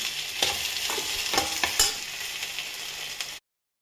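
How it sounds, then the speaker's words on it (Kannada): Okra frying in a pan, a steady close sizzle broken by several sharp scraping stirs of a utensil, with no voices. "ಬೆಂಡೆಕಾಯಿ ಫ್ರೈ ಆಗಿದೆ"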